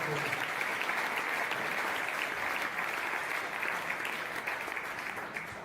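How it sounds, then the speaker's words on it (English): A sports-event crowd gives a sustained round of applause for the athletes and spectators, a dense, even wash of many hands clapping that holds steady throughout and fades slightly at the end. "Give us a round of applause."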